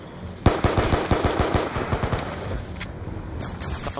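Rapid automatic machine-gun bursts blast out in a zombies shooter game, a sharp opening shot followed by a dense rattling stream of close, loud rounds with a few trailing clicks and no speech.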